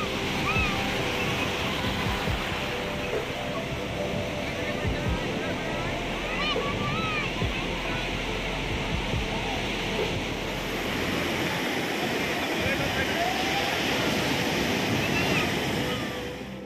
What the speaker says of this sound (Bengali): আর আজকে ঢেউগুলো অন্য দিনের তুলনায় একটু বেশিই বড়